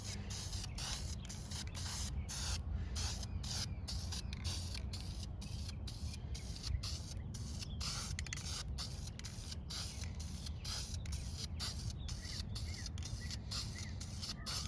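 Parts of a 2009 Honda Civic being spray painted in light coats, the can swept back and forth; a steady run of short, close hissing bursts in a quick, regular rhythm throughout.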